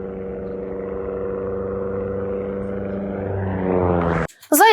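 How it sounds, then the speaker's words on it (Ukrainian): A Russian light propeller aircraft drones steadily in flight, its engine pitch rising and growing louder before cutting off abruptly into near silence, followed by a brief harsh burst. "Це останні секунди польоту російського легкомоторного літака."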